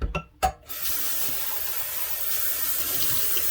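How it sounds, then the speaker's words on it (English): Fermented tomato seeds and their liquid are poured from a cup, opening with a few brief knocks before a steady, close splashing stream that runs for about three seconds. "I'm going to go ahead and pour my seeds in here"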